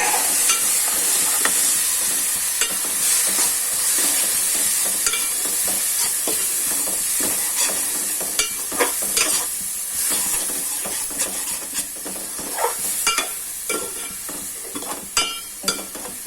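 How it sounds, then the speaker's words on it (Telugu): Ginger, garlic and coconut paste frying with curry leaves in a pan, a steady close sizzle with repeated scraping and clacking stirring strokes through the paste, growing sparser and more percussive later. "తర్వాత పేస్ట్ వేసుకుంటున్నాము. అల్లం వెల్లుల్లి కొబ్బరి పేస్ట్"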